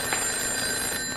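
Telephone ringing indoors in a short steady electronic trill, continuous and moderately loud, with no voices over it.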